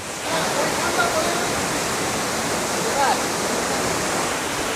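Water rushes under a footbridge in Kalimpong, a steady broadband roar that stays close and constant throughout with no pauses.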